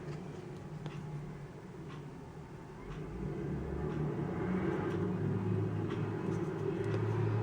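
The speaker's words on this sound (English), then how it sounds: "I'm sorry for any background noise, but it sounds like there's a bus" A low, heavy engine rumble of a large vehicle grows louder as it rolls past nearby, with steady traffic noise underneath.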